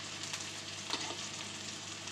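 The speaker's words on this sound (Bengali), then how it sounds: "চিংড়িটাকে আর আলাদা করে ভাজা করব না, এই মশলার সঙ্গেই ভাজা হবে।" Tiny lotha prawns frying in spice paste with a steady, close sizzle and occasional stirring scrapes, with no talk.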